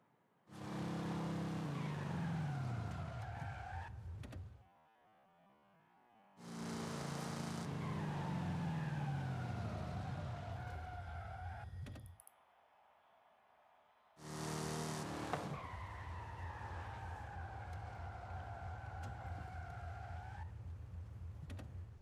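Car in Forza Horizon 5 braking hard in repeated runs, each a loud engine roar with falling pitch as it slows, tyre noise and skidding, separated by short quiet gaps.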